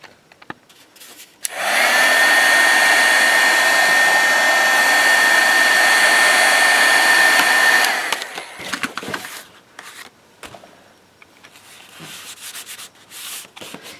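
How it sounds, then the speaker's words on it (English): A heat gun blows hot air over a fun foam stamp, a loud, steady whooshing roar that runs for about six seconds and then cuts off, leaving faint handling noises behind it. "Be careful not to heat it too much with the heat tool."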